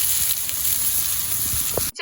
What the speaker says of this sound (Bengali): আমি ইঁচড় আর আলুটা লাল করে ভেজে নিলাম তেলের উপরে